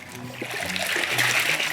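Fresh water sloshes and splashes in a coffee fermentation tank as coffee beans are washed, a steady close wash of churning liquid with no pauses.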